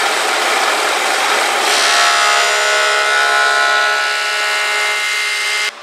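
A wood planer whines loudly as it shaves a rafter board for a round dome-house roof, a steady high-pitched machine drone with a sharper cutting tone partway through, cutting off abruptly at the end.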